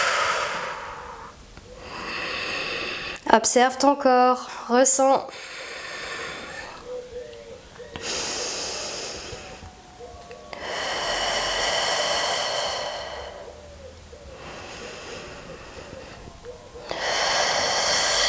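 Deep, slow breathing during a yoga flow, with several long airy inhales and exhales at an even, unhurried rhythm, close by. A spoken voice cuts in briefly near the start.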